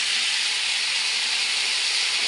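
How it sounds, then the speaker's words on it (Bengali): Pointed gourd and aubergine fry in a pan with a steady, dense sizzling hiss, close and continuous throughout, with no talking. "সবজিটা যত সময় ভাজা ভাজা হচ্ছে"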